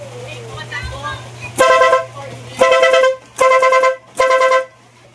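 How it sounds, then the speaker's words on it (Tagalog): Four loud, blaring horn honks from a Bajaj CT100 motorcycle after a wiring harness replacement, in an uneven sequence, each lasting about half a second, close up over a low hum, with a voice speaking before them. "test yung horn"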